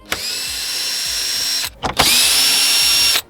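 Power drill whines at high speed in two bursts while a car front lip is installed, loud and close, with a short pause and a brief stutter of the motor between runs.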